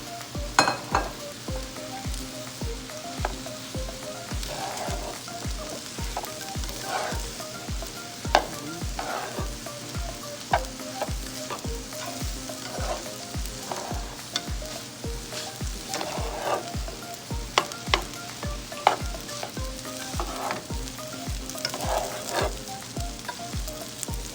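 Shrimp fried rice sizzles steadily in a hot pan as a spatula tosses and stirs it in a quick repeating scraping rhythm, close and continuous with no voices.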